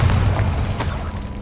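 A Bombarda explosion spell in the video game Hogwarts Legacy, a deep rumbling boom with low-end weight that decays over about a second, with a faint pop and debris crackle layered on top.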